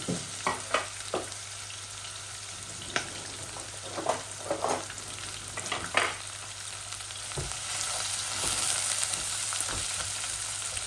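Chopped red and white onions frying in a pan, a steady soft sizzle with occasional sharper crackles and stirring scrapes, close by with no talking.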